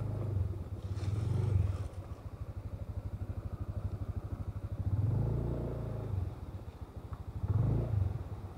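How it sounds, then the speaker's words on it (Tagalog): A Honda BeAT V3 scooter engine idles with a rapid, steady putter, rising into louder revs three times, close by and without talking. "dyan ko na muna ipaparada ang motor ko"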